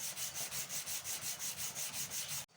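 Rhythmic rasping strokes of sandpaper scrubbing a metal martabak baking pan, about a dozen quick even passes, close and loud, ending abruptly.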